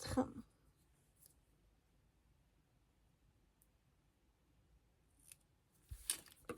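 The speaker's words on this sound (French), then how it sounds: "Et je vais venir couper donc à 10 cm." Scissors cut paper for a scrapbooking card kit in two short, quiet snips at the start and end, separated by near silence, with faint room noise throughout.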